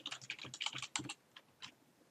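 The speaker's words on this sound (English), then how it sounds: "simply type Windows in the search field" Quick keystrokes on a computer keyboard enter a word into a search field, a close, light burst of clicks followed by a few sparse taps, quiet and with no talking.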